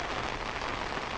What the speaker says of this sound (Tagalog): medyo lumalakas yung ulan